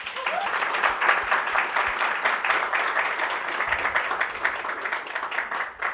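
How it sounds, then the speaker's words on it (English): Audience applause for a panel at a mentoring event, steady dense clapping from a crowd that holds evenly for about six seconds before tapering slightly at the end. "if we can just have a round of applause for our panelists"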